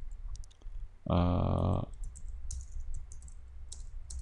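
Scattered clicks of a computer keyboard as a program is typed, close and quiet, interrupted by a loud sustained electronic tone lasting nearly a second.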